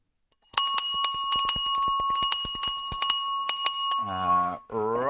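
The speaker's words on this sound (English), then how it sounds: "Right, here we go for the opening bell." A stock market opening bell rings in a rapid, continuous metallic ding for several seconds, clear and close, followed by a voice starting to speak.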